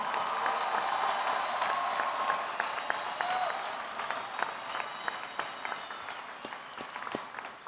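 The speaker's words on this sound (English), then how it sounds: "Please join me in a round of applause for these UNLV graduates." A large crowd applauding UNLV graduates at a university commencement ceremony in an indoor hall, sustained dense clapping that gradually thins toward the end.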